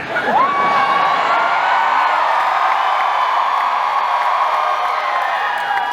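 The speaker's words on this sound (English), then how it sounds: "I want you to cheer louder about this announcement than you did about Anaheim." A large audience at a Universal Studios Halloween Horror Nights panel at Midsummer Scream cheers and whoops loudly and steadily, a dense wall of crowd noise with shrill individual shouts on top.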